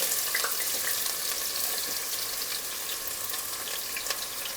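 Onions frying in hot oil for a home-style mutton curry, a close, steady crackling sizzle with scattered pops, fading slightly toward the end, no voices.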